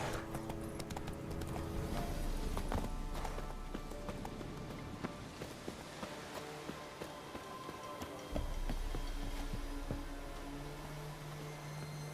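Hooves of Roach, Geralt's horse in The Witcher 3, clop in a steady running rhythm, moderately close and continuous over a low background ambience.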